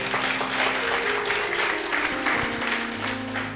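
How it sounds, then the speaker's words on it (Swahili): Steady applause from a crowd fills the whole stretch, with a low sustained musical tone humming underneath. "tupigie msomaji makofi mazuri"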